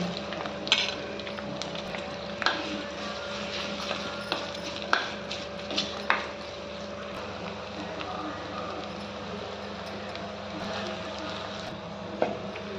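Curry leaves, green chillies and thinly sliced onions frying in oil for katteparegulu pulusu: a low, steady sizzle with scattered sharp clicks and clatters of stirring, fairly quiet throughout.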